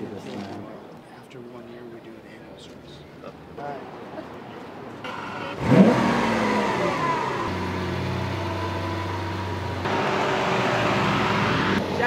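A souped-up, special-order Lamborghini engine starts with a sharp burst and then holds a loud, steady rumble nearby, with a voice talking over it beforehand and a second surge in level toward the end.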